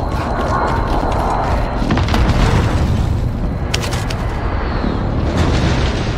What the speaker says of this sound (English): Enemy precision airstrike. Get down.